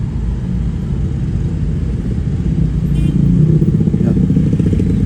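Congested traffic on a main road in the Panciro area near Barombong, cars and motorcycles idling and creeping along, with a steady loud rumble of engines and scattered clatter throughout.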